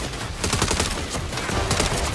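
Turret guns in the game Saints Row fire a dense, continuous stream of rapid shots, loud and steady for the whole stretch with no pauses.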